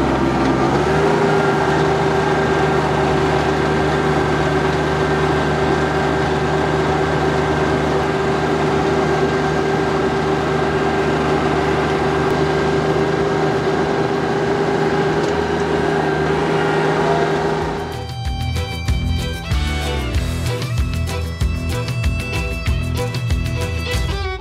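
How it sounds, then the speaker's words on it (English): A tractor running in two-wheel drive tills soil fast and shallow with no load, its steady engine drone continuous and close for most of the stretch before shifting to a rougher, choppier mechanical sound near the end. "I am tilling very fast, fairly shallow, and in two-wheel drive."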